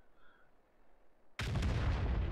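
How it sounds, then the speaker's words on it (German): After a near-silent moment, a single heavy cannon blast from an FV304 artillery vehicle in the World of Tanks game bursts in suddenly and loudly, then rumbles on in a dense, sustained roar. "Schneller Schuss aus der Hüfte, aber trifft hier leider nicht."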